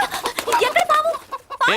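A hen clucks in winter, a series of short, close, choppy clucks and squawks broken by brief pauses.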